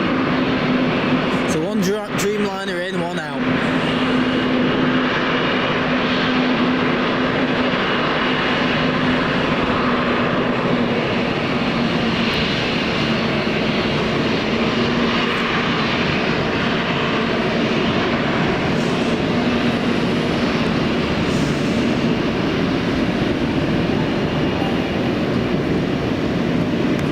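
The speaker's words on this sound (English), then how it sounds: "Dreamliner in, one out." A Boeing 787 Dreamliner at Manchester Airport produces a loud, continuous jet engine roar that holds steady throughout, with a brief burst of wind-like noise near the start.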